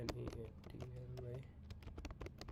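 Rapid keyboard typing clicks, close and fairly busy, running under a continuous low voice for most of the stretch before separating into distinct keystrokes.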